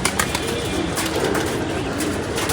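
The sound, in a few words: pigeon arriving and landing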